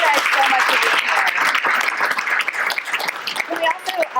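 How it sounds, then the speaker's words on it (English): Audience applause at a live fireside chat event, a dense sustained wash of many hands clapping that fills the space, with a few voices and cheers mixed in. "Can we give everybody one more round of applause today?"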